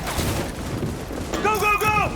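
Gunfire rattles in the video game Cyberpunk 2077, a busy, crackling stream of shots. A shouted voice cuts in over it near the end.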